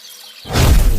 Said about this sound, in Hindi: मीनू चिड़िया भागी भागी जाती है और नदी के पानी में छलांग लगा देती है